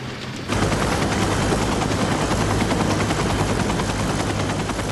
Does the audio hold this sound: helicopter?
yes